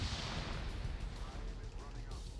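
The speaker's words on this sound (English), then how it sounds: "More grenades being randomly thrown around." Grenade explosions in a multiplayer PvP war game, a continuous low rumbling boom that stays steady and fairly faint, heard under a commentator's talk.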